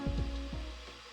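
Water heating in a Koios gooseneck electric kettle, a short, quiet sizzling hiss with a few low bubbling pops and a steady hum underneath, close by.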